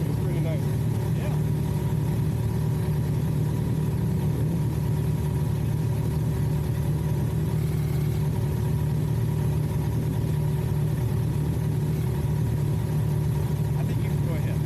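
Motorcycle engine and exhaust on a rider training course, a steady low rumbling drone that continues evenly for about fifteen seconds at a moderate distance.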